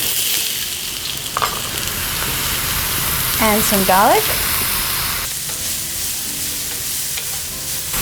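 Onions and chilies sizzle and crackle loudly in oil in a hot wok, with the scrape of stirring and a voice speaking over the frying.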